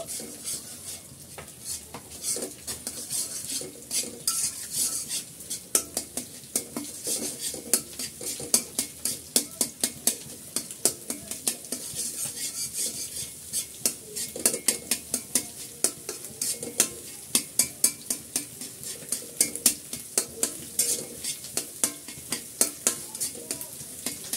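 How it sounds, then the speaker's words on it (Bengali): Beaten egg with a little salt is scrambled in a pan for fried rice, with dense rapid clatter of a spatula against the pan over a steady frying sizzle, close and busy throughout. "ডিমটা আমি একেবারে ঝুড়ো ঝুড়ো করে নেব"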